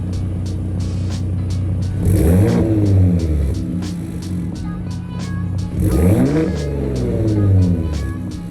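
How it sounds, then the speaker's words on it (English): A 2021 Ford Raptor Gen 3 with its active exhaust in normal mode, revving twice in two swelling bursts over a steady idle rumble, close and loud with no talk. "So you have an active exhaust now on these trucks"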